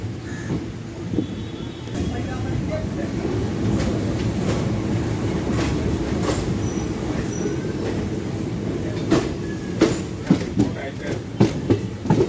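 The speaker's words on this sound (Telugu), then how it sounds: "1555 కిలోమీటర్స్ డిస్టెన్స్ కంప్లీట్ చేసి ఈ ట్రైన్ చేరుకుంది తిరువనంతపురం సెంట్రల్" A passenger train from Secunderabad Junction pulls into Thiruvananthapuram Central station after a 1,555 km run, its steady low rumble and wheel noise continuing throughout, with sharp clacks and squeals over rail joints growing near the end.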